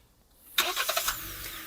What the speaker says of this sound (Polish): w pierwszej kolejności Julka odpali silnik, czyli musi wcisnąć sprzęgło i zająć już jedną rękę.